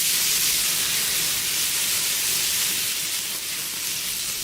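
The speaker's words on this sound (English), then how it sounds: "dude's frying his bacon, and yeah. And that's some sizzling." Bacon frying in a pan gives a steady, dense sizzling hiss that stays even and close throughout, with no voices over it.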